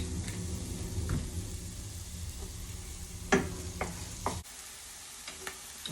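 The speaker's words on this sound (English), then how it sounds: "I'll mix that all together" Food is stirred in an oiled frying pan for Thai pork basil, a steady sizzle with scraping spoon strokes and a few sharp clacks against the pan, close and moderately loud, with no talk.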